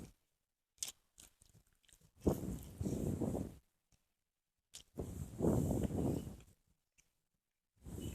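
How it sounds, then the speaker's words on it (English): Crunchy chewing of a bite of chicken burger, close and quiet, in two main bursts of wet mastication separated by silence, with a few small mouth clicks around them. "Hang on, gotta take another bite of my chicken burger."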